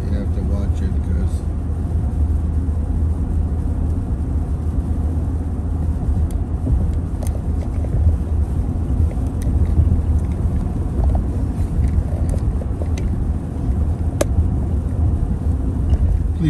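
Cars speeding past on a snowy road during the first snowstorm of 2023, a steady low rumbling road and wind noise with no separate passes standing out, continuous and fairly loud throughout.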